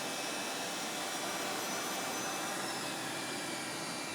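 Airliner jet engine number two spooling up on start, a steady loud broadband roar with a high whine running throughout, no talk.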